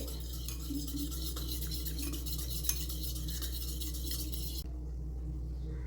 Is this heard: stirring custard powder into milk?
yes